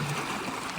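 Water flows steadily through a small irrigation channel dammed with a piece of wood, backing up and spilling toward two fields in Japan; a soft, continuous trickling rush, close and unbroken.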